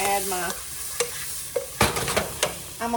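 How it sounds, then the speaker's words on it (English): Onions and garlic caramelizing in a hot pan give a steady sizzle, broken by several sharp scrapes and clacks of a spoon stirring against the pan, close up, with no talking. "I'm just caramelizing the onions and caramelizing the garlic just so it ain't raw."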